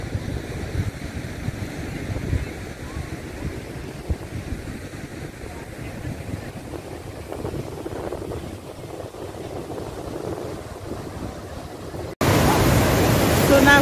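Steady surf and wind wash over Noordhoek beach in Cape Town, a constant broad roar with no voices, turning abruptly louder and harsher near the end as gusts hit the microphone.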